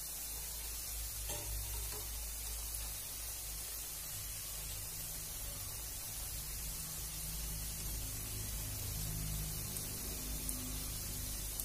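Diwali sweet dough pieces fry in hot oil and are turned over, giving a steady, close, hissing sizzle that holds evenly throughout, with no talking.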